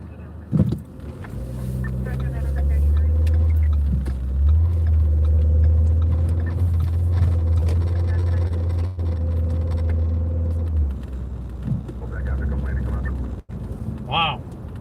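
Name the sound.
heavy downbound road traffic with tractor trailers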